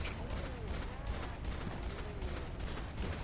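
Video game gunfire crackling through a dense, continuous mix of game noise and background sound, with speech-like layers underneath throughout.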